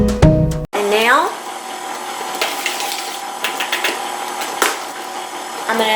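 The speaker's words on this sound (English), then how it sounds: "I'm going to take the mixer" An electric mixer running on low whirs steadily through banana bread batter, a continuous hum with small bumps and clatter as it works the bowl, after a brief opening burst of other noise.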